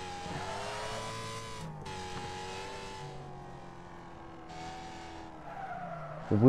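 Car drifting through a turn in the racing video game Wreckfest, engine droning with shifting pitch while tires squeal and skid, a loud sustained slide that surges harsher at the very end.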